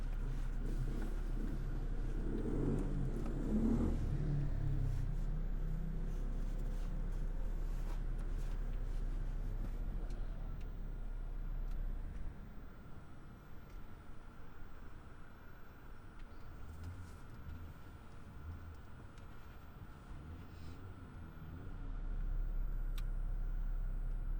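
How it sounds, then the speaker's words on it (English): Steady road traffic in Positano, Italy, with scooters weaving around a bus, engines humming and vehicles rolling past close by, a constant low rumble that eases briefly midway before building again. "Look at these scooters coming around this bus."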